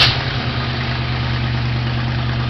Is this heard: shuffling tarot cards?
no